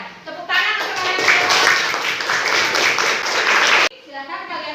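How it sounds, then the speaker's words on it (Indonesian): A class of children claps together in a burst of rapid, overlapping hand claps that stops abruptly, with a teacher's voice heard before and after the clapping. "Tepuk tangan untuk kalian."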